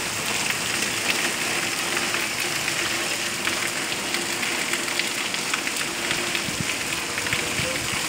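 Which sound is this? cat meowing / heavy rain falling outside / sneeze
heavy rain falling outside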